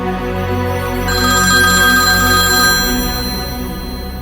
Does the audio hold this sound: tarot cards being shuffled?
no